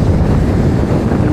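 Strong wind and crashing sea waves during Typhoon Ramil at Dinahican, Infanta, Quezon form a loud, continuous roar of surf and gusts buffeting the microphone, with no pause.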